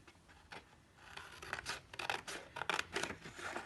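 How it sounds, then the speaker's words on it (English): Scissors snip through paper along a fold line while making a paper chatterbox, in a series of short, crisp cuts, some quick and close together, others spaced apart, fairly close and fairly quiet. "and then to cut along this line like this"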